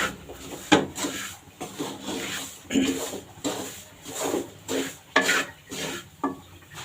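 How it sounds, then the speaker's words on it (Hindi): A spoon works through a thick besan and sugar mixture in a pan, giving rhythmic scraping strokes roughly every half second, soft and close, with a faint sizzle beneath. "चमचा चलाते हुए।"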